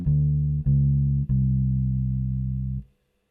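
A bass guitar plays a blues walking line from G down to C in three long, sustained low notes, each one clean and separate, before the last note stops.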